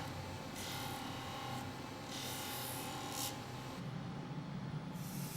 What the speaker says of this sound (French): Ensuite, le polisseur procède au satinage dans l'axe vertical